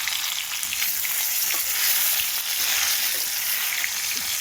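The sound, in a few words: fish frying in a pan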